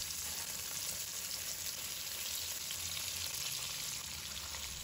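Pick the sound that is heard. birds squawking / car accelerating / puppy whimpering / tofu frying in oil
tofu frying in oil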